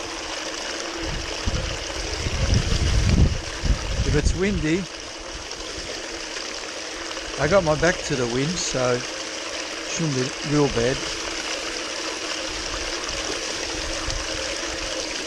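A trommel runs with water while processing creek material, giving a steady flowing, trickling wash throughout, with someone talking over it in bursts.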